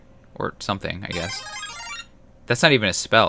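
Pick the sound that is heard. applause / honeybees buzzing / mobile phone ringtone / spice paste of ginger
mobile phone ringtone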